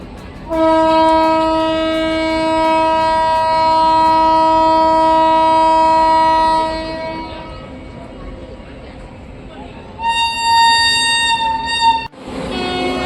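A Porbandar–Bhavnagar train at platform 2 of a railway station sounds a long, loud horn blast, falls quieter, then gives a second shorter horn blast.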